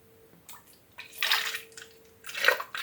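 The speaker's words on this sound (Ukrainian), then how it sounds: "От я переливаю водичку з янтарною кислотою, переливаю полівізатор і буду оприскувати." Water with dissolved succinic acid poured into a plant sprayer, heard as two short splashing gurgles that swell and fade, close and fairly quiet, with no talk.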